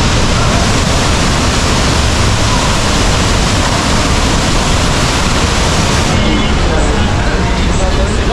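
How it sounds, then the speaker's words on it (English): A waterfall in Ubud, Bali roars loud, steady and close, a dense continuous wash of rushing water that fills the whole clip. "All right, it's the waterfall."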